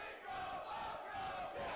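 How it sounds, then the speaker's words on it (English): A packed, divided crowd at a Wrestling Revolver pro wrestling event roars and chants in a steady, loud wash of many voices for a couple of seconds, with no single voice standing out. "Split crowd here tonight."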